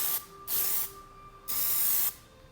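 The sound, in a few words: aerosol spray can spraying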